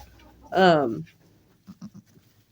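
A loud goat bleat sounds close by in a goat-kidding barn, followed by a few soft, short clucks from chickens nearby.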